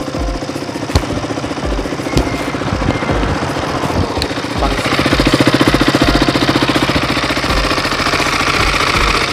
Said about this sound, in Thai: เสียงเครื่อง